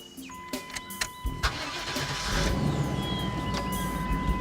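A car engine cranks with a few sharp clicks, then catches and settles into a steady, close idle.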